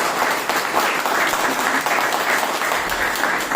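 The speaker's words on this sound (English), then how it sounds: "Let's give a big round of applause for all the old players." A room full of people at a Toastmasters meeting gives sustained applause, a dense and fairly loud wash of clapping that holds steady for the whole stretch with no voices over it.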